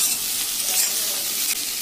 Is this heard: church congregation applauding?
no